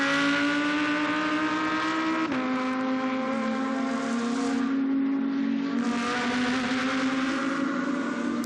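A GT2 race car at the Paul Ricard circuit roars steadily at high revs through a corner, its loud, continuous engine note dipping briefly as it shifts, then climbing again, with no voices heard.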